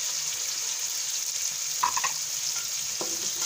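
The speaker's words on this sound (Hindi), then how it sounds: "और इसे थोड़ा सा और फ्राई करेंगे।" Finely chopped medium onions frying in oil for chicken karahi, a steady hissing sizzle with a couple of brief stirring clinks near the end, close with no talk.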